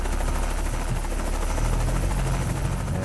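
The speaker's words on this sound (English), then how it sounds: "And this helicopter's getting close." A helicopter in American Truck Simulator thrums with a steady, loud rotor drone and low engine buzz, holding constant as it nears, with no talk over it.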